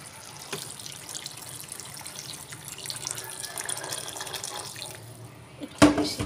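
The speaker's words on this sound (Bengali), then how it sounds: "আমি এর মধ্যে গরম জল দেব।" Hot water pours into a pan of mutton curry with potatoes, a steady gurgling stream running close and fairly loud for several seconds, ending with a sharp clatter.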